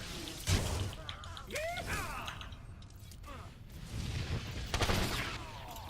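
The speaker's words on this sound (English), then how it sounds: "Taste a little blaster fire." Blaster fire from the Star Wars: The Old Republic video game crackles in quick volleys, with sharp energy shots and mechanical creaks over a busy game soundscape.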